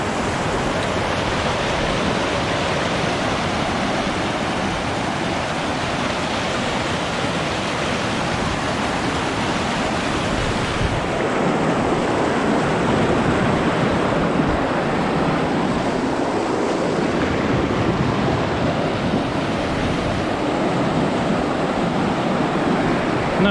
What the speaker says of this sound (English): This is Newton Creek, first crossing of the day